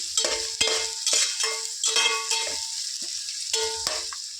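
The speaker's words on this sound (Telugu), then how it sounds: "మిర్చి చక్కగా ఫ్రై చేసుకోవాలి లైట్ గోల్డెన్ బ్రౌన్ కలర్ వచ్చే వరకు ఫ్రై చేసుకుందాం" About ten green chillies frying in hot oil for a chicken curry: a bright, continuous sizzle close by, broken by repeated sharp spoon-on-pan scrapes and taps as they are stirred, with no talking.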